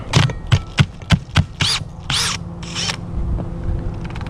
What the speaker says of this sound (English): Take the bolt out, the other one out.